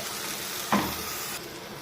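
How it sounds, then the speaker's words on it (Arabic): Rice sautéing in ghee and spices sizzles in a steady hiss, with a single sharper clatter of stirring partway through and no voice. "نفضل بقى نقلب فيه ونشوح فيه عشان لغايه ما الرزايه كده بتاخد لون، تتشمع من السمنه"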